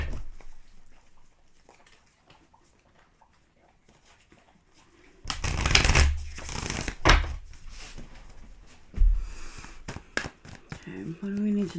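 A deck of tarot symbol cards being shuffled close up, a quiet lull giving way to bursts of riffling and flapping card noise, ending with a few faint taps.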